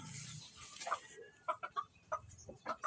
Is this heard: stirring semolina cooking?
no